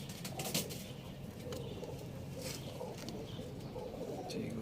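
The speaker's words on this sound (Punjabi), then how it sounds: "ਇਹ ਵੀ ਕਬੂਤਰੀ ਆ ਜੀ" Racing pigeons coo softly nearby amid rustling and faint flapping in a loft where birds are being stamped before release.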